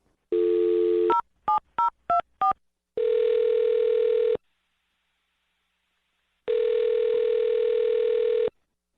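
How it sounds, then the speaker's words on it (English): A phone line plays a steady dial tone, then five quick touch-tone beeps as a number is dialed, followed by two long ringback tones separated by silence, all clean and close. "I'm going to dial their phone number right now"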